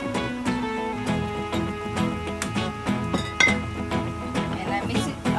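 Instant noodles with soy sauce being stirred in a bowl, giving repeated clinks and scrapes of utensil against the bowl over steady background music.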